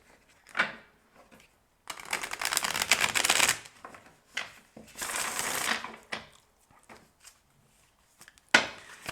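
Playing cards being shuffled indoors in several bursts: short riffling rustles, then two longer crackling shuffles, with a final brief riffle near the end, fairly close and with no talking.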